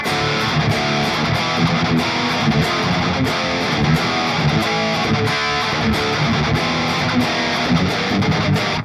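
Heavy distorted electric guitar riffing through an STL Tonality Howard Benson amp suite, dense chugging palm-muted chords with sharp rhythmic attacks, loud and sustained for several seconds with no talking over it.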